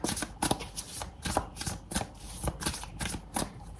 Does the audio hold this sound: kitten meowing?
no